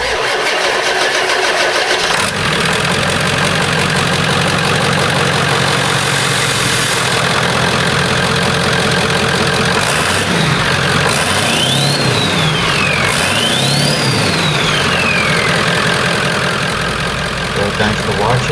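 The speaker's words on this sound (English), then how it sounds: "what does the Powerstroke sound like without a exhaust system on?" A 1997 Ford F350 with a 7.3L Powerstroke diesel idles with its exhaust system removed, giving a loud, raw, continuous clatter after a startup-like rise. A faint rising and falling whine passes over it in the middle.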